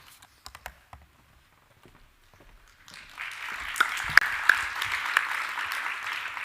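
After a few seconds of near-quiet with scattered soft taps, a workshop audience at a French national digital health innovation day starts clapping, steady and moderately loud, with a few sharper claps.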